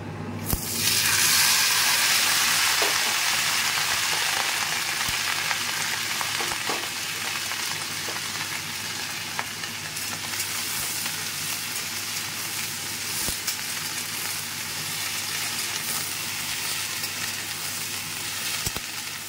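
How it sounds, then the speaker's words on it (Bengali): Chopped carrot, beans and capsicum fry in a hot pan with a dense, steady sizzle that runs unbroken, with occasional faint clicks of stirring beneath it. "সবজিগুলো ভাজা হয়ে গেছে"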